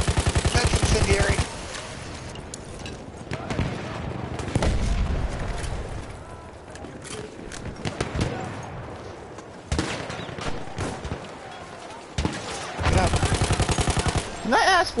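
Gunfire in a Battlefield video game, where dense bursts of automatic fire and booming shots crackle loudly almost without pause, with a few brief quieter gaps and voices talking amid the battle.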